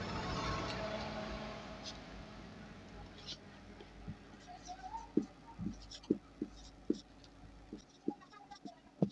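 A pen scratches across paper as a letter is written, giving short, faint strokes in an irregular rhythm over quiet background noise.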